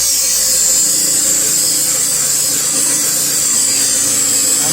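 Car trim from a 1962 Mercury Comet held against a spinning wire wheel, a loud, steady high-pitched whir and grinding hum that continues without a break.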